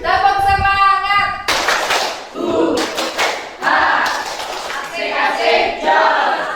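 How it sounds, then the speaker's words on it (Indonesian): Schoolchildren stand and clap a quick rhythmic spirit pattern together in a classroom, bursts of sharp hand claps mixed with their chanting voices and a teacher's speech. "Tepuk semangat."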